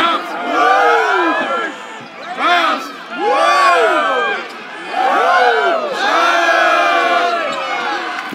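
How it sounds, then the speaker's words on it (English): Spectators chant a bounce, bounce, woo, woo cheer in loud, rhythmic waves of group shouting and whooping, with short pauses between the bursts. "The bounce, bounce, woo, woo cheer"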